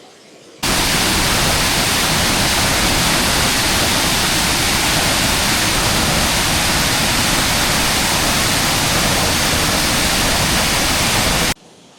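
Rhaeadr Ddu, the black waterfall in Wales, roars as a loud, steady wash of falling water, close and unbroken from start to finish, with no voices over it.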